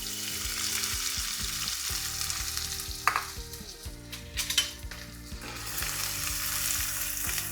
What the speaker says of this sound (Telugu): ఇందులో కాస్త సాజీర వేసిన తర్వాత ఉల్లిపాయలు వేసుకోవాలి